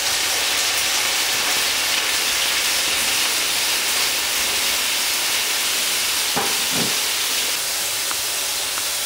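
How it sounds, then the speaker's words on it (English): Tofu frying in olive oil in a skillet gives off a steady, close sizzling hiss that runs throughout, with a brief louder spatter near the end. "we are going to add in our tofu. We're going to fry this until it's a golden brown color"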